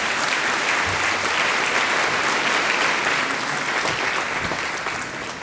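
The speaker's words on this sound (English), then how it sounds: "How about one more round of applause for all of our winners tonight?" Sustained, dense applause from a large audience at an awards gala dinner honouring winners, a steady broadband wash of many hands clapping without pause that eases slightly toward the end.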